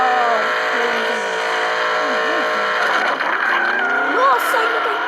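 A car engine revs and accelerates steadily in a driving game, its pitch rising and falling, with squealing tones near the end while someone talks over it.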